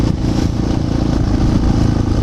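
Yamaha TTR 600 supermotard motorcycle engine running close by, a loud, steady single-cylinder thump with slight clatter, continuous and unbroken.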